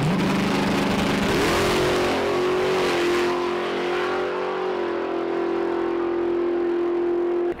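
A car engine revs up near the microphone, the pitch climbing over a couple of seconds and then holding at a steady high drone. It is loud and continuous, with no speech over it.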